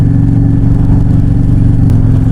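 A motorcycle engine runs loud and close inside a tunnel, a dense, steady rumbling drone that holds without pause throughout.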